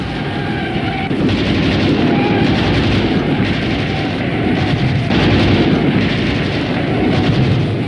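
Battle gunfire crackles in a dense, continuous barrage, with bullets striking close to a stock of ammunition, heavy rattling bursts and booming shots layered loud and unbroken throughout.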